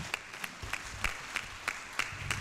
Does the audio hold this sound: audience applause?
yes